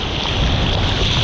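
Ocean waves and wind on the Portugal coast, a steady broadband wash of surf with gusting wind noise, loud and continuous with no talking.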